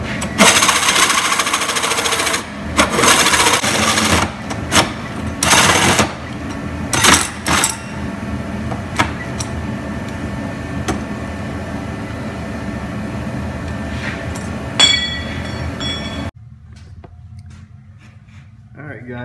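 A drill bores into the metal body of a Jeep in loud, broadband bursts of several seconds each. Shorter clicks and clatter come between them, and the noise cuts off near the end.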